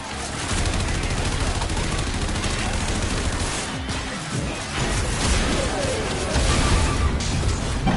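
Sustained gunfire in the video game Warframe, aimed at spores clinging to a scrubber, with a steady unbroken barrage of shots and crashes across the whole stretch, loud and close, with game sounds layered in.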